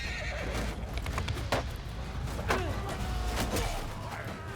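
Horses whinny and neigh repeatedly during a medieval battle in Mount & Blade II: Bannerlord, with several loud close calls over a dense wash of hooves, clashing and battle noise.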